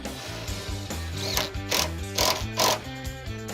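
Ratchet straps being cranked tight around a new gas tank on a Plymouth Duster, a close, steady run of mechanical clicking strokes with rhythmic surges of louder ratcheting.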